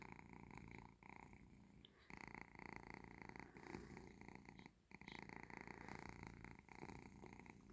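A cat purring steadily and close while being petted in the morning, a continuous low rumbling purr with brief breath pauses.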